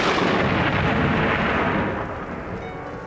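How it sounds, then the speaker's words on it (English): Heavy rain pours outside in a dense, steady roar, with a deep thunder-like rumble swelling early on before easing slightly; no voices. "It's pouring with rain."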